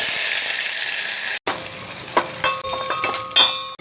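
Tempering spices hit hot oil for tomato dal, a loud close sizzle that cuts out briefly, then bursts back with crackles, pops and short clinks of a utensil.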